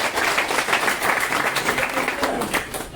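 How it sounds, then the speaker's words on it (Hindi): An audience breaks into loud applause, a dense, sustained patter of clapping hands that stays fairly even for about three seconds and briefly swells at the close. "एक जोरदार ताली"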